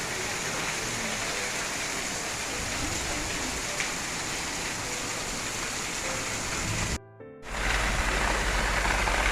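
Steady evening rain pours down in a dense, even hiss, loud and close, before a brief dropout and a heavier low rumble at the end.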